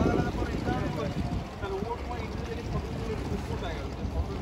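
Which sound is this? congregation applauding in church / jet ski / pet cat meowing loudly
jet ski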